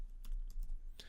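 A few quick, close keystrokes on a computer keyboard while entering a line of Java code, with a brief burst of taps and no talking.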